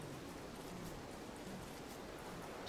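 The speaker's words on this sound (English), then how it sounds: "Aw, it's raining." Steady soft rain falls in the video game Don't Starve, a quiet even hiss with no distinct drops, heard alone throughout.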